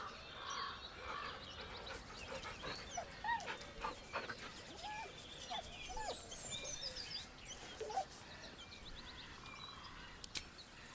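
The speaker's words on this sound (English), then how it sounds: "The dog whimpers nervously" A dog in Baldur's Gate 3 whimpers and whines softly over a busy game soundscape, with faint bird and frog-like calls mixed in and a few sharp clicks.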